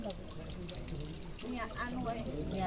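Holy water runs steadily from a tap at the Gua Bunda Ratu Waleri grotto pilgrimage site, a continuous close splashing wash with voices talking over it throughout.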